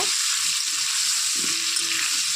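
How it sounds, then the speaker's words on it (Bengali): Potatoes frying in oil with chili, turmeric and salt, browning ahead of a mutton dish, a continuous even sizzle with faint low clatter from stirring underneath. "এখন আলুটাকে আমি একটু লাল লাল করে প্রথমে ভেজে নেব"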